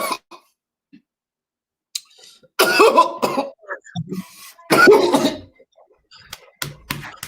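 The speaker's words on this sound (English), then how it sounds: "if I could stop coughing" Several harsh coughs in two main bursts with short pauses between, close and fairly loud, followed by a few faint scattered sounds.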